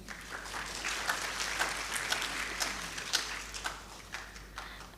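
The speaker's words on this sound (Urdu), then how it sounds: "اس کے لیے ذرا تالیاں بجا دیں" An audience claps for the organizers at a school-education session of the Pakistan Literature Festival in Sukkur. The applause is faint and distant, with scattered louder individual claps standing out from a thin, steady patter.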